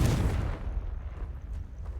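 A fire spell bursts into a heavy explosion in Hogwarts Legacy, a loud deep boom at the start whose rumble fades over the next two seconds.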